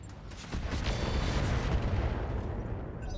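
Mech weapons in the RogueTech BattleTech mod unleash a dense, rumbling barrage, with heavy booming impacts and crackling bursts rolling on continuously for a few seconds, loud and without speech.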